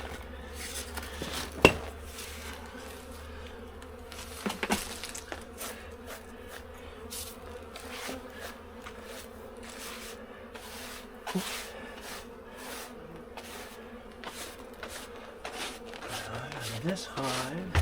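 Honeybees buzz in a low, steady drone around an open hive during an inspection, with faint scraping and handling noises and occasional quiet talk.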